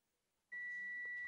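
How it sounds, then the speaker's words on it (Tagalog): A repair buzzer on a Zotac GeForce RTX 2060 graphics card with no power and a full short gives a loud steady electronic beep. It starts abruptly partway through and holds a single clean tone to the end, with no voice over it. "Connected ang buzzer sound natin."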